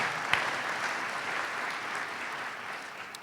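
Steady applause from an audience, even clapping throughout with one sharp knock early on, gradually easing off.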